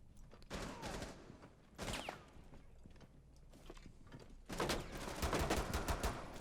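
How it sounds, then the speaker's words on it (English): Gunfire in the tactical shooter Rainbow Six Siege, bursts of rapid shots and single cracks in loud clusters with quieter gaps between, heavier firing toward the end. "Looks like there's someone shooting me."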